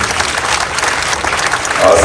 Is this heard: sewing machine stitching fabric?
no